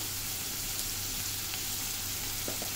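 Salted onions fry in a pan for a traditional kandvani, giving a soft, even sizzle throughout with faint occasional clicks.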